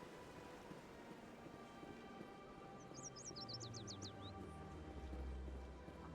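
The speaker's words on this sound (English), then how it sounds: "Birds chirping, which is crazy." Faint birds chirping aboard the Citadel space station in Mass Effect, a brief run of quick rising tweets midway through, set against a constant hissing ambience and low hum.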